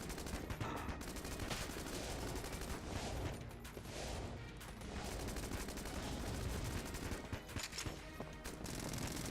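The Corsair gun in the video game Enter the Gungeon fires in rapid, continuous bursts, a dense rattle of shots layered with chaotic game effects, loud and sustained across the whole stretch, with no talking.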